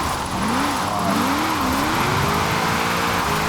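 A 1994 Nissan Fairlady Z Version S twin turbo AWD drift build revs hard in Forza Horizon 4, its engine note rising and falling steadily and loud throughout with a faint tire squeal edge.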